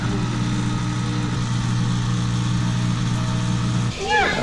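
A Kenmore washing machine pump runs with a steady, loud droning hum that stays constant throughout, and a voice briefly breaks in near the end.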